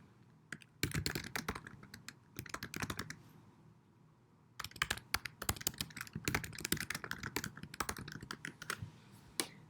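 Rapid bursts of typing on a computer keyboard, crisp clattering keystrokes in two runs separated by a short quiet pause.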